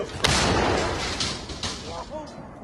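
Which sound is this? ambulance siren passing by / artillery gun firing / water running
artillery gun firing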